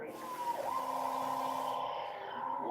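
Ambulance siren wailing at a steady moderate level, a sustained rising and holding tone that cuts off sharply in its upper range near the end.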